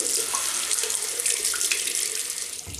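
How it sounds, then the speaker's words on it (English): Cold water runs from a bathroom tap into a sink to cool a Merkur Slant 39c safety razor, a steady close splashing hiss that continues throughout without speech. "Gonna go cold water now. Cool down the steel."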